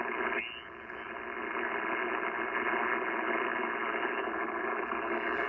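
Steady hiss of band noise from a Yaesu FT-710 receiver with the noise blanker switched off, filling the band below about 3 kHz and continuing unbroken at a moderate level, with no voices.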